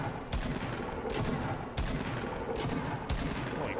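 Shotgun blasts in the video game Fortnite, four sharp booming shots spaced roughly evenly about a second apart, close and loud, with no talk over them.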